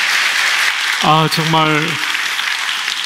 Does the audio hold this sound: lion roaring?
no